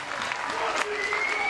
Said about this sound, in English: I had a big round of applause for all 20 fighters on stage today